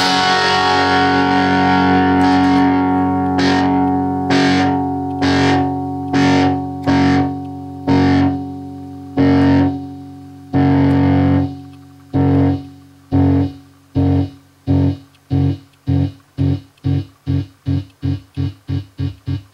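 A guitar played through a Cusack Tap-A-Fuzz pedal starts as a sustained fuzzy chord, then pulses in rhythmic chops whose rate steadily speeds up until they stutter rapidly, with no talking.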